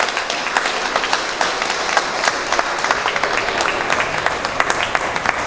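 Audience applause at the opening ceremony of the Limoux Brass Festival, a steady dense round of clapping with sharper individual claps throughout, fairly loud and close, sustained for the whole stretch without speech.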